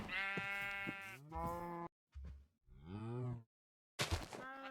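Minecraft sheep and cows call in quick succession: several wavering bleats and lowing moos overlap and alternate, separated by brief silent gaps, with no talking.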